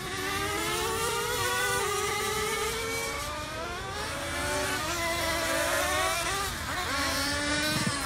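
Small RC race car engines whine at high pitch on a racing track, several buzzing motors rising and falling continuously as they rev through the laps, steady and fairly close with no talk over them.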